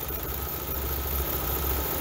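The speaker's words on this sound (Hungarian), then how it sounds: "maga a motor járáskultúrája az jónak tűnik. A motor szépen jár" An Opel car engine idles smoothly and evenly at close range, a steady low hum and rumble with no audible stumbles, with no talking.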